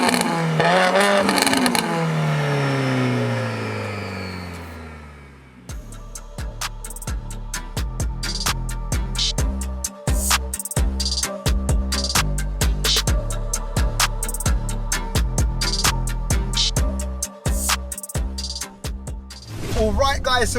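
Mercedes A45 AMG with a big turbo making 630 bhp and a screamer pipe exhaust, a loud rising rev sweep, then aggressive accelerating runs broken by sharp crackling pops and bangs, close up.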